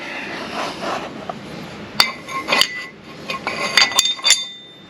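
A thin universal wheel spacer is bolted onto a car hub with metal hardware, giving a series of bright clinks and taps, some doubled, near and fairly loud, with quieter handling in between.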